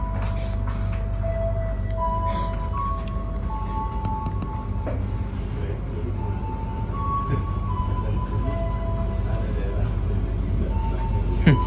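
Passenger train pulling out of Ciledug station on a trip from Jogja to Jakarta, a steady low rumble with faint tonal whines and squeals heard from inside the carriage, with people talking in the background.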